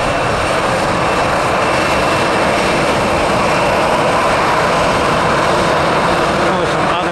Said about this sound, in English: Southwest taxiing about 25 knots.